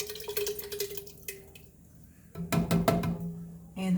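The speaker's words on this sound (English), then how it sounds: "I'm going to go ahead and add a small can, about 14 and a half ounces of diced tomatoes" Canned diced tomatoes, a small 14.5-ounce can, poured into a soup pot for Tuscan bean soup, with wet splashing plops and drips in two bursts separated by a short pause.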